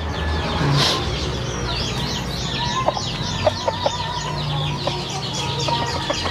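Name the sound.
chickens and roosters clucking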